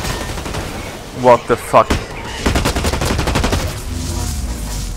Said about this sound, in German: was fliegen hier für Granaten rum?